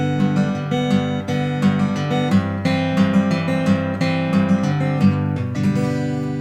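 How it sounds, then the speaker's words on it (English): An acoustic guitar is played fingerstyle in a Travis picking pattern: a steady alternating bass with melody notes plucked over it, ringing continuously and close-up at an even, rolling tempo with no talking. "Now, Travis picking is a right-hand guitar technique that's used in countless classic songs"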